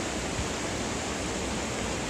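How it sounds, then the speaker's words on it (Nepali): A swollen river near a village rushes past in a steady, dense broadband roar, close and continuous with no voices over it. "खोला चाहिँ यसरी बढिराखेको छ।"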